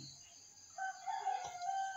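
A rooster crows faintly at dawn over a steady hiss, with the call rising and holding for about a second.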